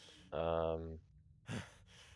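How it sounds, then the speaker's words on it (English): A character in The Long Dark survival game breathes heavily, with one long drawn-out sigh-like breath followed by two shorter, sharper breaths, close and clear with no talk over them. "I don't know why he's breathing this heavy"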